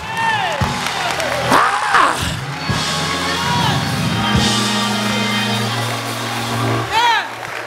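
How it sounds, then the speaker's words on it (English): Loud cheering and shouting fill a camp meeting congregation, with a broad, steady crowd roar. Organ or keyboard tones run underneath and a voice calls out over it. "Clap those hands, clap those hands."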